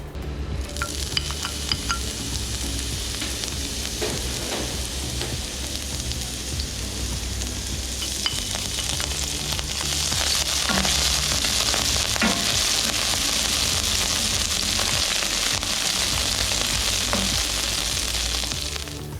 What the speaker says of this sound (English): I'm going to add my chive and celery to the heated oil.